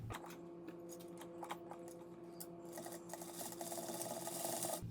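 A sewing machine stitches a pink fabric pillow flange with striped fabric, a quiet steady mechanical whir with soft ticking, low in level and without voices.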